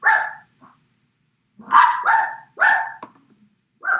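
A dog barks in short bursts, one bark, a pause, then a quick run of three or four more, fairly close and loud.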